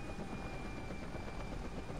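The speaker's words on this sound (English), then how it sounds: "Where did we get a chopper from exactly? Especially a Cobra attack chopper." A Cobra attack helicopter flies close by, its rotor throbbing in a loud, steady thudding drone that fills the whole moment with no one speaking.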